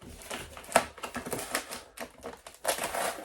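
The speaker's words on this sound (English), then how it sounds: "It's in like a polystyrene, so I'm going to have to cut around the edges" A blunt knife cutting around polystyrene packaging, irregular close scraping, creaking and snapping taps in uneven bursts.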